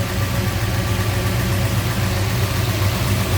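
A 426 Hemi V8 with dual four-barrel carburetors in a 1966 Dodge Charger idles with a steady, deep rumble, close and loud, with no voices.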